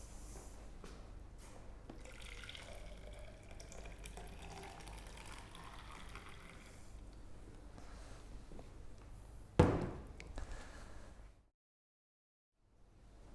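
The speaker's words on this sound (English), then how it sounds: "just add some boiling water to it." Boiling water poured from a kettle into a container holding a straw that is partly restricted at its top, a steady watery pouring wash ending in a sharp splash and gurgle, then silence.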